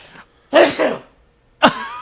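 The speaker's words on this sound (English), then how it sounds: "Oh, I'm going to sneeze." A single sharp sneeze, preceded by a quick breathy intake, followed by a brief vocal exclamation, close to the listener.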